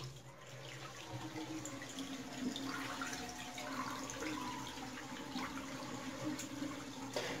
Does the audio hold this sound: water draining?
yes